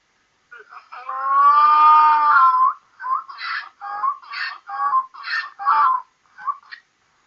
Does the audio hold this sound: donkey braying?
yes